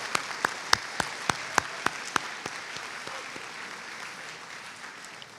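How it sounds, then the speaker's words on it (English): A banquet audience claps for cadets' mentors, opening with a few sharp distinct claps that quickly blend into a steady, moderate round of applause which gradually softens. "Let's give them a round of applause to show our appreciation for everything they do for our cadets."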